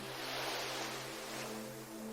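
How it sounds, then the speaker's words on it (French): Ocean waves wash softly at the seashore as a steady, faint hiss of surf with no distinct breaks, and a low hum lies beneath it. "Bercé par le son des vagues, notre périple commence au bord de la mer."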